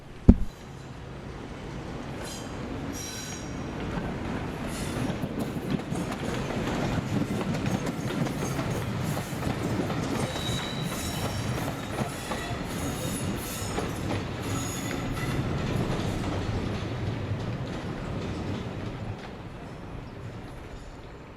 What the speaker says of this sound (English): The noisy hustle and bustle of the busy railway yard